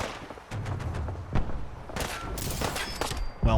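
Disintegrator weapon firing in Fallout 4, a rapid run of sharp energy shots and booming impacts, loud and close, with a brief electronic tone near the end.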